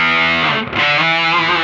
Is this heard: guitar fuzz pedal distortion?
yes